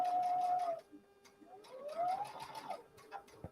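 Sewing machine back stitching rust-colored binding onto a quilt border, a quick rattling run of stitches, a short pause, then another whirring run with rising motor pitch, close and fairly quiet.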